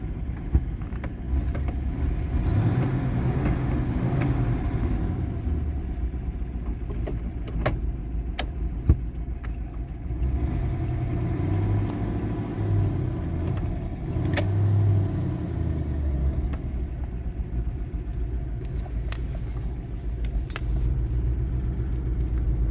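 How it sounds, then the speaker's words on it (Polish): A 1941 Buick Special Sedanet's engine idles after a few kilometres of driving, a steady low rumble that stays even throughout with faint occasional clicks and no speech. "Tu jeszcze dźwięk silnika, proszę Państwa, po zrobieniu kilku kilometrów"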